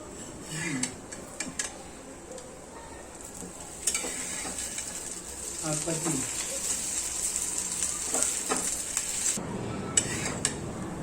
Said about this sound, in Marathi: मीडियम गॅसवरच फ्राय करायचे अगदी पटकन फ्राय होतात